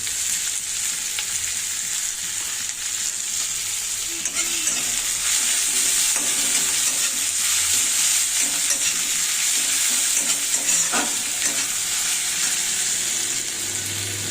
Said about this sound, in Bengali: পেঁয়াজটা আমাদের ভাজা হয়ে গেছে